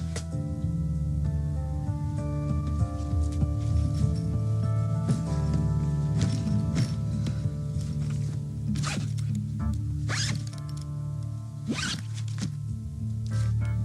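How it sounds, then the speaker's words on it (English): A zipper heard in a vintage 1996 soap opera broadcast, several quick zipping strokes over a steady background of music or hum, moderately loud and spaced irregularly through the clip. "That zipper sound."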